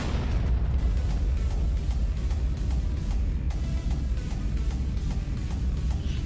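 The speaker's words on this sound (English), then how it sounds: "So let's just watch it explode now." An explosion in the video game Car Crushers 2 rumbles as a dense, sustained low roar with crackling bursts, steady in loudness throughout.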